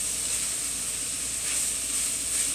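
Onions sizzle steadily in a hot pan for sloppy joes, a constant bright frying hiss heard up close with no talking.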